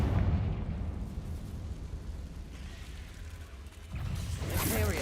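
A Confringo blasting spell goes off in the Hogwarts Legacy video game, giving a loud low rumbling blast with crackling debris that fades, then a second burst of bright crackle near the end.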